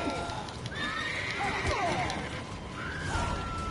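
A horse in The Witcher 3 video game whinnies loudly with rising and falling neighs over clip-clopping hooves, set against steady in-game ambience and a speaking voice.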